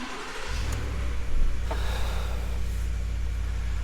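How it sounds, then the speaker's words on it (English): A 2020 Ford F-150 XLT pickup's engine cranks and catches, settling into a steady, loud low rumble that keeps running close by. "Let's go ahead and start the truck up."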